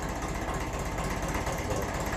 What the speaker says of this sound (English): these engines, they do like to take a good half an hour or so to warm up